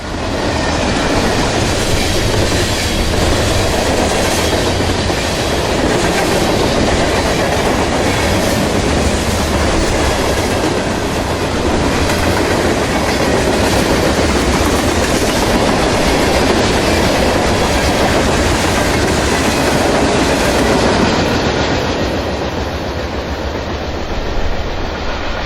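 A Norfolk Southern freight train passes on the Wabash line in rural Illinois, a loud, steady rumble with rhythmic clickety-clack of wheels over rail joints, sustained close by for the whole stretch and easing only slightly at the end.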